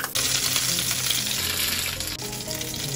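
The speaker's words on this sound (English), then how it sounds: "I'm gonna have shallow fry the mutton until it gets brown all sides" Mutton shallow frying in a pan for Hungarian-style paprikas, a steady loud sizzle with faint stirring, close up and continuous with no talk.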